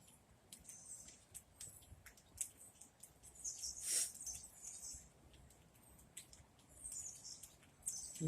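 Small birds around an outdoor bird feeder, with squirrels nearby, giving scattered faint chirps and tweets over quiet rustling and patter, one brighter call standing out midway.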